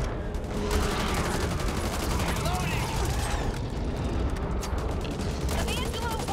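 Dense automatic gunfire and bursts of shooting fill the Back 4 Blood co-op game mix, steady and loud throughout, with players talking over the chaotic firefight.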